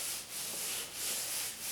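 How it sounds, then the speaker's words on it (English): A cloth or clay pad is rubbed back and forth over wet car paint to lift overspray, giving a close, steady scraping hiss that swells and dips with each stroke. "You can hear how much overspray is on this thing"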